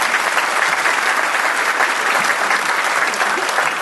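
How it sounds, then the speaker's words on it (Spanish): Strong, dense applause from a conference audience welcoming a speaker to the podium, loud and continuous with no pauses, filling the room evenly. "Recibamos con un fuerte aplauso al doctor Francisco Tudela"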